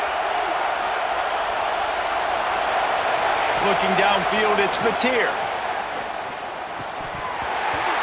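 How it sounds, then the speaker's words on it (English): A football stadium crowd roars on third down to support the defense, a dense, steady wall of cheering that swells and then eases, heard under a commentator's play-by-play. "Decibels rising as the crowd gets behind this defense on third down."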